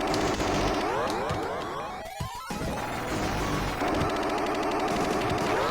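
Gems fire a relentless barrage on the Sega Genesis game Gunstar Heroes: rapid, machine-gun-like bursts and crashes stacked over busy game music, loud and unbroken apart from a brief gap.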